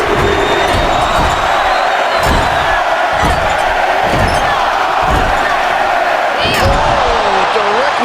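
A roaring arena crowd cheers steadily throughout a women's NXT gauntlet wrestling match in the video game WWE 2K23, with thuds of in-ring impacts and a commentator talking over the din.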